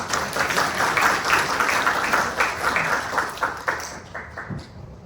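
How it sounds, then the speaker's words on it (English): Conference audience breaks into a round of applause, dense and steady clapping from many hands in a hall, tapering off into scattered claps near the end. "Let's give ourselves a big round of applause."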